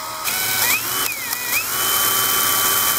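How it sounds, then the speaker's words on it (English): A power drill whines up and down in pitch as it bores a hole through plexiglass for a headlight cover, close and loud, with the motor steadying into a continuous high drone. "And then I can go ahead and carefully drill the next hole"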